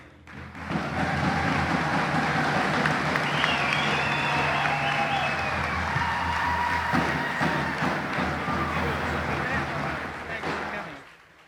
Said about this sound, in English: Another round of applause for our Prime Minister.